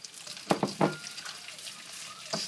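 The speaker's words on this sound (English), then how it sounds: "Then put back the prawns" Garlic prawns dropped back into a hot pan, a few sharp clattering bursts followed by a soft sizzle and scraping, fairly quiet and close.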